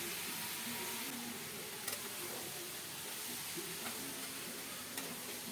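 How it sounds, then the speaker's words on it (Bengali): Onions stirred and frying in a pan for a Bengali bottle gourd and small shrimp dish, a steady broadband sizzle with a few scraping stir strokes, continuous and fairly close, no talk. "ভালো করে নেড়ে চেড়ে সব কিছু মিশিয়ে দিয়ে কিছুক্ষণ ভেজে নিয়ে দিচ্ছি পেঁয়াজগুলি"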